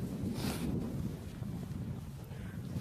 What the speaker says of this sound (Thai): ลมแรงหนาว